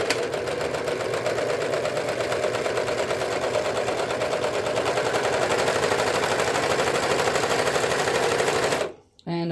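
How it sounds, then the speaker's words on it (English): A serger sewing machine runs at speed in a continuous, rapid mechanical chatter, loud and close, for several seconds before abruptly stopping. "just for the sake of showing you what a serger does"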